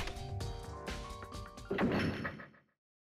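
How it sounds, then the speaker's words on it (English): A door shuts with a solid thunk and then locks in Danganronpa: Trigger Happy Havoc, heard after a stretch of game music, followed by a rumbling clatter that fades into silence. "As soon as the door to the data center was closed, I heard a strange sound."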